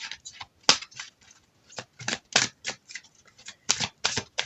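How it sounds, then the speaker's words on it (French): Angel oracle cards being shuffled and drawn from a deck: a run of crisp, close paper flicks and snaps in an uneven rhythm, with a few sharper slaps standing out and no talking. "Je tire une carte conseil des anges"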